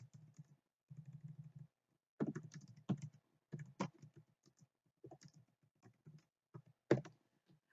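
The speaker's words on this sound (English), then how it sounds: "So if I type that same phrase right here" Typing on a computer keyboard while annotating a document, heard as quiet, close bursts of rapid key clicks separated by short pauses, with no talking.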